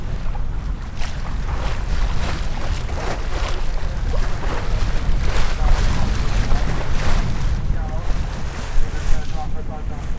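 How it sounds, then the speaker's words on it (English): Steady gusty wind roars across the microphone while sailing near Eleuthera Island, with water rushing and sloshing beneath, a constant buffeting noise throughout, with faint voices briefly underneath. "It's pretty gusty right now too."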